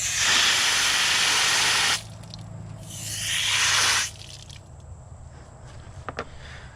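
Bursts of hissing water spray rinsing dirt off a Can-Am Outlander ATV, two long blasts separated by a pause, followed by quieter drips and clatter.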